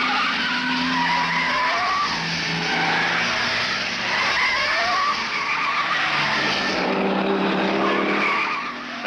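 Ford Falcon touring cars and smaller cars roar past on the Bathurst circuit in a 1970-71 Bathurst 500 race, a sustained, loud blur of engine noise, tires squealing and skidding as they push through corners.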